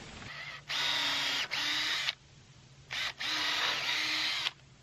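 An impact driver fitted with a socket drives bolts into swing set brackets in two bursts, each a loud whirring hammering run broken by a brief pause, with quiet gaps between.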